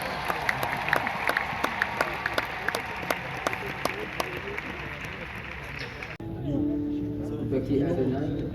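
A church congregation claps in a steady, rhythmic beat amid a loud crowd and voices, then the clapping stops and a fuller murmuring crowd sound takes over.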